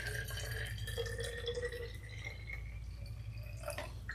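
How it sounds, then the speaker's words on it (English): Water being poured into a pan for smoking bison ribs, a faint trickle with dripping and rising filling tones over a steady low hum, no talking. "I'm going to fill it up some, about halfway, with some water."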